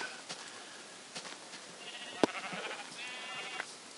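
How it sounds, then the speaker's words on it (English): Sheep bleats from the Minecraft video game, several short bleats and wavering calls scattered over a few seconds at moderate level, with a brief click partway through, no talking. "Lots of sheep."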